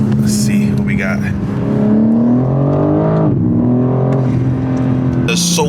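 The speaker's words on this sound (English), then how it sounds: "you could definitely hear the blow off when you let off, but spooling" A BMW G82 M4 engine revs up and settles in a steady, close drone whose pitch climbs and dips a few times, with a brief hiss near the end.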